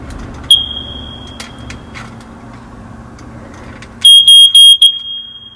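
A household smoke alarm sounds its test signal after its battery is replaced and the test button is pressed: a single short chirp, then a cluster of loud, sharp, rapid piercing beeps near the end, with a low background hum throughout.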